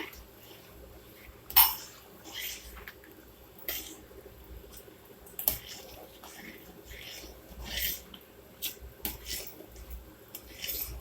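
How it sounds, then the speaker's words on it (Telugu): Rava upma with cashews being stirred in a pan, giving soft scraping and occasional metallic clinks of a spoon against the pan, fairly quiet and irregular, with brief spoken remarks now and then. "మొత్తం వేసి కలిపేస్తాను అనమాట"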